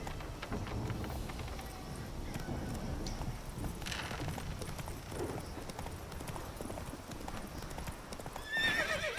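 Hooves of Roach, a horse in the video game The Witcher, clip-clop steadily through the whole stretch over a low rumbling game soundscape, with a whinny near the end and no speech.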